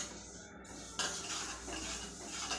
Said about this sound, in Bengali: মুগ ডাল ভাজা বসানো হয়েছে।